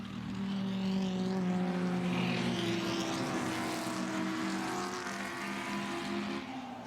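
Touring race car engine accelerating hard on a circuit, a loud, rising multi-toned roar that climbs in pitch through the revs before easing off slightly at the end, with no talk over it.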